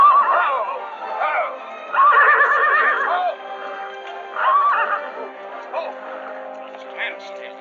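A temperamental mare whinnies in loud, shrill bursts, neighing repeatedly in shaky, quavering calls with short pauses between them, close by.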